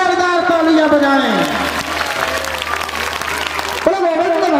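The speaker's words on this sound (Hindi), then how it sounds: "उनके नाम की जोरदार तालियां बजाएं" Loud crowd clapping at a Bhagavat Katha religious gathering, layered with sustained sung or chanted voices and a gliding tonal line, continuing steadily before an abrupt shift near the end.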